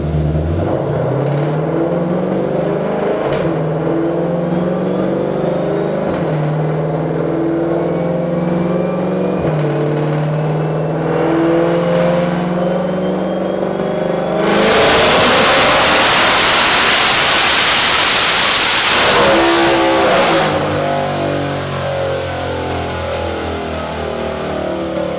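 A supercharged Ford Mustang GT500 engine on a dyno drones steadily, then surges into a loud, roaring rev with a whooshing blast before dropping back to a sustained hum.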